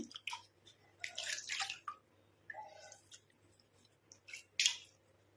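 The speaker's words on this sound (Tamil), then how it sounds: "நான் இப்போ வாஷ் பண்ணியே காட்டுறேன் ஃபேஸை" A face being rinsed and washed with water: close, irregular splashes and wet squishing come in bursts, with short quiet gaps between them.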